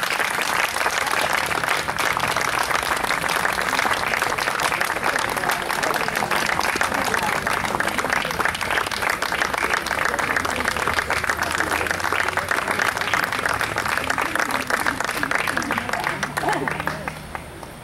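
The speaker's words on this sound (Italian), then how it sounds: "Signore e signori, accogliamoli con un grande applauso" Sustained audience applause at a Celtic folk festival greets a Brazilian duo taking the stage, a dense steady wash of many clapping hands filling the whole stretch at high level before tapering slightly at the very end.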